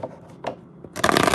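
Tarot cards are shuffled in short bursts, a few soft riffles followed by a louder, denser flurry of card slaps close by.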